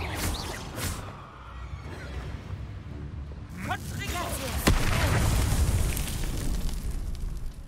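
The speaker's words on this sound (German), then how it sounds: "Er ist ein bisschen explodiert." Explosion in the video game Hogwarts Legacy: a burst of noise with a sharp crack midway, followed by a rumbling, sustained roar, with speech heard around it.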